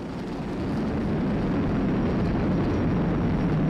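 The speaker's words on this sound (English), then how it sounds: "Flying crew on board Dragon and Falcon 9 and look at them go!" SpaceX Falcon 9 rocket carrying a crewed Dragon capsule, heard during ascent: a continuous, dense, low rumbling roar that swells slightly and holds steady, heavy and loud.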